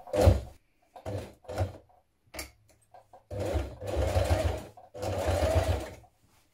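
A sewing machine runs top stitching on a pair of jeans in several separate bursts, short runs first and then two longer steady passes, close and loud with brief pauses between.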